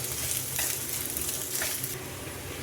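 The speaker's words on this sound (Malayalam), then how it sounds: "ഇനി ഇതിനെയും കൂടി നമുക്കൊന്ന് മൂപ്പിച്ചെടുക്കാം" Ginger and garlic sizzle and crackle steadily in hot oil in a pan, with a couple of brief stirring scrapes along the way, a close and continuous frying sound with no voices.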